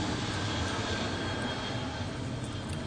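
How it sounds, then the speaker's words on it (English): An airplane sound effect: a steady, full-bodied engine roar that holds at an even loudness for about three seconds, with no voices over it. "Airplane."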